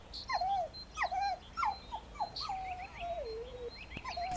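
African wild dogs in the open grassland of Erindi, Namibia, give a run of high, wavering whimpering calls and chirps, repeated in short bursts over a faint outdoor background.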